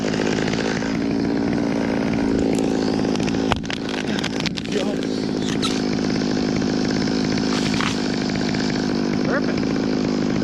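A chainsaw cuts through a big cedar tree, its engine roaring loud and continuous throughout with slight shifts in pitch as the blade bites into the wood.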